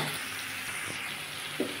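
Malabar spinach with prawns, turmeric and salt sizzles steadily in a hot pan as it is stirred, a continuous close frying hiss with a brief louder stir near the end and no talking.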